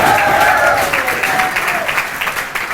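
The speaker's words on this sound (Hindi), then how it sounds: "तो एक बार सर के लिए जोरदार ताली हो जाए।" Loud, continuous applause from a classroom audience fills the whole stretch, steady and dense with no voices standing out.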